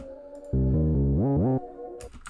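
A deep synthetic bass note holds, then glides upward and back down in pitch, loud and buzzy, followed by a few faint clicks.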